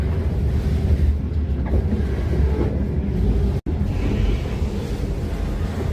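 A passenger train travelling to Ninh Binh in Vietnam rumbles steadily from inside the carriage, a loud low drone with a brief dropout partway through.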